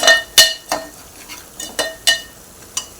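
Several sharp scraping and clinking strokes of a spoon against a pot, spaced irregularly over a quiet background, while stirring spices and salt for a fresh Bombay duck curry.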